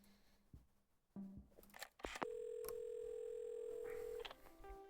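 A telephone dial tone in the video game Assemble with Care comes in after a few clicks and handset rustles, a steady, clear hum held for about two seconds before it cuts off.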